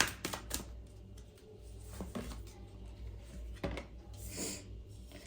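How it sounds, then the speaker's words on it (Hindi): A deck of tarot cards is shuffled up close, giving several loud riffling and slapping bursts with brief pauses between them. "I will shuffle again."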